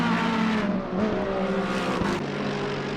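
Ferrari GT3 race car heard onboard at Brands Hatch in Assetto Corsa Competizione, its engine droning loud and close with rising and falling revs, a brief downshift blip partway through and no talking.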